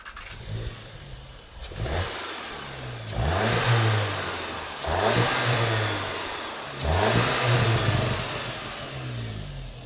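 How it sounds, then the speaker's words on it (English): Intake of a Mk7 Golf R estate with Racingline intake and Milltek exhaust, revved in three strong, evenly spaced bursts that climb and fall back to idle, loud and close with no talking. "this is what the intake sounds now"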